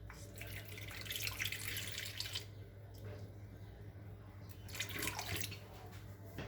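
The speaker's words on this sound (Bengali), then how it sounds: "তো আমি এখন গরম গরম দুধ দিয়ে দিব।" Hot milk pouring into a bowl in a home kitchen while mixing pizza dough, a soft running liquid stream that rises and falls in two bursts over a low steady hum.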